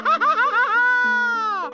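Mario's cartoonish voice from the video game Super Mario 64, a short high-pitched playful exclamation that bends up and down and then holds a long drawn-out note, heard alone.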